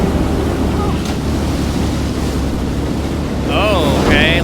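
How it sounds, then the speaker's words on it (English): Storm waves crash and roar in the horror video game Man of Medan, a steady loud wash of surf and wind that swells near the end, with a voice speaking over it. "Big storm. It's gonna be lots of waves."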